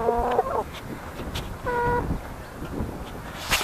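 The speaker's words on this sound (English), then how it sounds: "These chickens were actually battery chickens that were raised from day-old chicks." Former battery hens raised from day-old chicks clucking close by in short rhythmic bursts, one longer tonal call in the middle, with scattered rustling and a sharp sound at the end.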